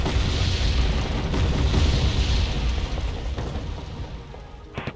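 Artillery fires in a wargame, producing a heavy, continuous booming rumble that is loud at first and then slowly fades.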